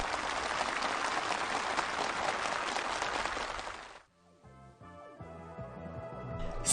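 Enthusiastic applause from participants at a housewarming gathering for new homes in Kangwon Province, dense and steady for about four seconds before cutting off to music.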